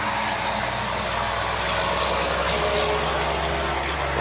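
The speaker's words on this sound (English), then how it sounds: "there won't be a truck come by up here on that road back there unless I'm filming" A truck passes on a road behind the scene, producing a loud, sustained engine roar and broad rumble that fills the whole moment without any talking.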